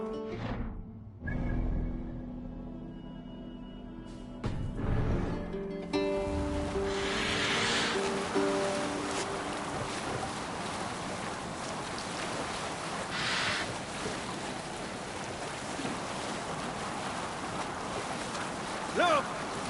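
Viking longship under sail in Assassin's Creed Valhalla, steady wash of ocean waves and wind around the hull with creaks and splashes, occasional voices over the constant sea noise.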